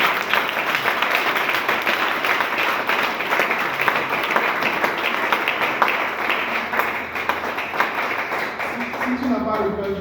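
Audience at a full gospel conference in Togo, sustained dense applause and clapping filling the whole stretch, loud and steady, with voices calling out beneath it.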